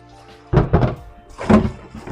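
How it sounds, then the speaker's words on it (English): Kitchen utensils being washed by hand, heard as two clusters of clattering knocks and thuds against a quiet background, close and fairly loud, with no talking. "So this is me washing on my utensils."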